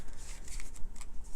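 A large tarot deck being shuffled by hand, close up, with rapid rhythmic riffling and papery slaps in repeated bursts, no voices over it.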